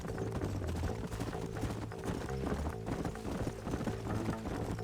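Steady clip-clop of horse hooves at a trot in Red Dead Redemption, close and continuous, layered over a busy outdoor backdrop with no talking.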